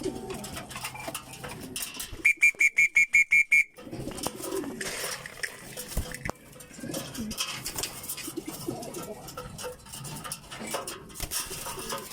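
Pigeons in a loft coo in a soft, throaty murmur, with a quick burst of evenly spaced sharp clicks early on and light clinks of dishes or feeders around them.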